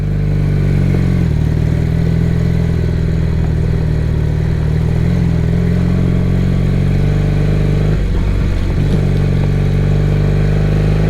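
A 1978 Honda CB400 motorcycle is ridden along a road, its engine a loud, continuous, close drone that dips briefly with a gear change, backed by wind rush.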